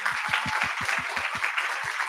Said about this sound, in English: Please give her another huge round of applause.